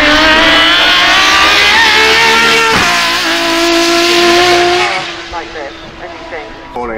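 A supercar roars loudly past the finish line at the Goodwood Festival of Speed, its engine note climbing through gears before fading away into crowd noise.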